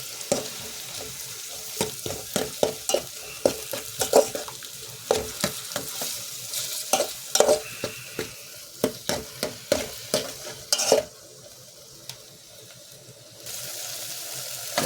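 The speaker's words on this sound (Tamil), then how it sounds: "தக்காளி வெங்காயம் நல்லா வதங்கிடுச்சு." Tomatoes and onions sautéing in a pan for a south Indian green dal are stirred with rapid, rhythmic spatula scrapes and knocks over a sizzle. A brief hiss like running water follows near the end.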